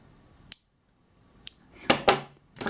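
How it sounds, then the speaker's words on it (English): Scissors snip through crochet yarn while finishing a small crocheted star: a few sharp, crisp cuts, isolated at first, then a quick cluster of louder snips close to the microphone, with no talking. "And then we can cut our yarn"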